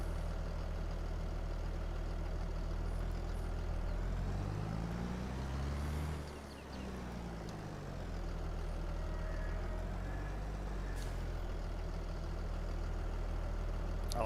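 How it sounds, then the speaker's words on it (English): Tractor engine idling and running steadily in Farming Simulator 22 on a farm map, a low continuous drone that holds throughout with a slight dip in the middle, no talking. "little tick of your blinker, and the engine."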